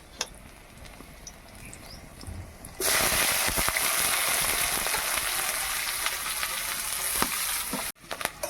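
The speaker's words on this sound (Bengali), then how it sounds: "আদাটা কিছুক্ষণ নেড়ে নেওয়ার পর আমি কুচনো পেঁয়াজ দিয়ে দেবো" Chopped onions hit hot oil with ginger in a pan, bursting into a loud, steady sizzle that holds for several seconds after a quieter start, with occasional stirring scrapes and a brief drop near the end.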